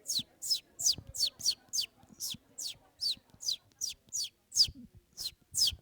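A human voice imitates a baby bird, with a steady run of about fourteen quick, high, rising peeps spaced evenly, close and alone over faint room noise.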